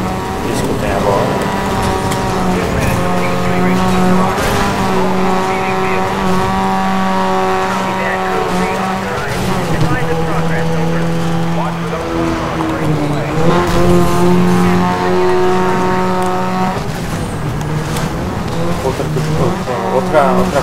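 Race car engine in the Grid video game, a steady high-revving drone with shifting pitch as gears change, rising and falling through corners with brief tire squeal, continuous and loud with no talk over it.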